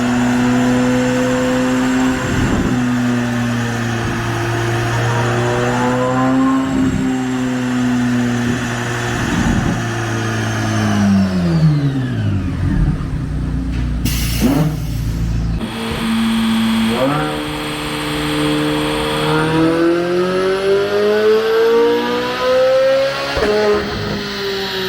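Bone-stock Corvette C8 Z06 screaming on a dyno, a loud sustained high-revving run that climbs, then drops sharply midway before revving back up, close and dominant with no talk.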